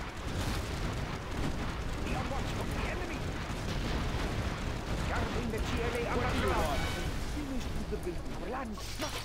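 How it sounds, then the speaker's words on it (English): A powered-up technical fires a rocket in the Generals Zero Hour strategy game amid a dense, continuous wash of explosions and battle rumble, with a voice talking over it. "The powered up, the powered up technical actually shoots a rocket."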